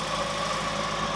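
Exhaust of an MK2 VW Polo on downshift, a steady close rumbling drone that fills the short stretch without a break, with no voices over it.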